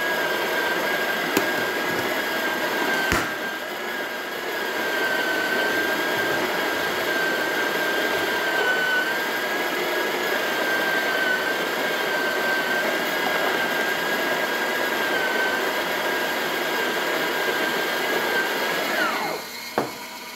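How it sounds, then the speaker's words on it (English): Breville Touch espresso machine's built-in grinder grinding test coffee at a fine setting, a steady loud whirring drone with a faint high whine that holds for nearly twenty seconds before stopping. "We're grinding on the 21 setting of the grinder itself."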